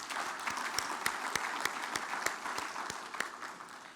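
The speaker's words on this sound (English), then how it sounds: "can we give him another round of applause," Steady, dense applause from a large audience at the opening ceremony of an aviation stakeholders convention, many hands clapping together with a few sharper individual claps standing out across the full stretch.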